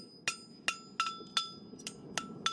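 A farrier hammers a handmade horseshoe flat on an anvil at a forge, six sharp ringing metallic blows at an uneven pace, close and clear with no talk.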